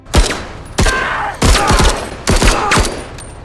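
Bursts of automatic gunfire from the tactics video game MENACE, four sharp volleys of rapid shots at roughly even intervals, loud and close, with no talking.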